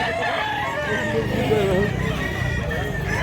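Rooster crowing at a market or sale, its call partly masked by steady chatter of people talking nearby and faint background noise.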